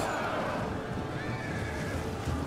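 Horses neighing amid the din of a cavalry charge in a Total War Age of Charlemagne battle, Frankish horsemen crashing into axe warriors, whinnies rising over a constant rumbling wash of hooves and battle noise.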